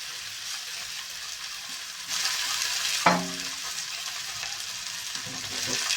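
Vegetables sizzling in oil in a kadhai, a steady hiss of frying with a brief scrape and clatter of stirring partway through, close and without talk.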